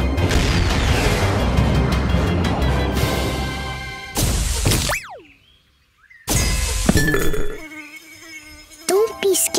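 Cartoon bee sounds in a children's animated show: a dense, busy buzzing fills the first few seconds, followed by sliding whistle-like tones, gaps of near silence and cartoon sound effects, all fairly loud and close.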